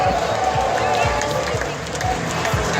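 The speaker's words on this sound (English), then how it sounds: "Give everybody else a big round of applause" Audience applause at the Midwest Gaming Classic 2019 cosplay contest in Milwaukee, a steady crowd clapping and cheering throughout, with voices mixed in.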